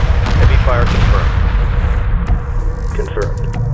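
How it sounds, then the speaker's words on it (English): Heavy weapons fire in the space strategy game Homeworld 3, a dense, loud, continuous rumble of blasts and booming shots with clattering bursts layered over it, while radio-style voices speak through the battle. "Heavy fire confirmed."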